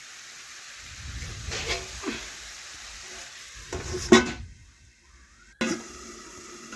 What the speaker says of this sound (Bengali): এই দেখুন এইভাবে নাড়াচাড়া করে সমস্ত কিছু মশলা মিশিয়ে নেব আর একটু ভেজে নিচ্ছি।